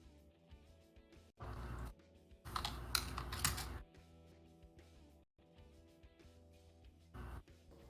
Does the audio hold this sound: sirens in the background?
no